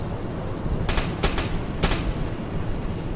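Gunfire and blasts in a U-boat combat video game: three sharp bursts ring out over a steady low rumble of engine and sea noise, with no talk.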